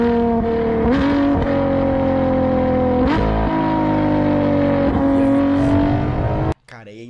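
A Ferrari LaFerrari with its original exhaust revs hard and close, a loud sustained engine roar that climbs and dips in pitch several times before cutting off abruptly near the end.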